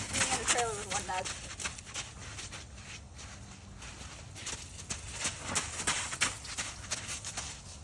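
Horse hooves knock and shuffle on the floor of a horse trailer in a series of uneven steps, with people talking nearby.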